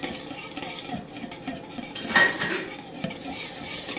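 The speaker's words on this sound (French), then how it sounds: "Je mets le zeste de lime et je continue à battre." Lime zest being whisked into a mixture in a bowl for a lime pie, a steady scraping, clinking whisk rhythm with a louder burst of stirring near the middle, close and fairly quiet, no talking.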